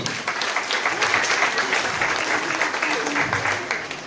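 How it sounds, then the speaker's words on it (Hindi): Loud, dense clapping from a seminar audience fills the room continuously, a thick crackling wash that holds steady for several seconds with faint voices mixed in. "जोरदार ताली"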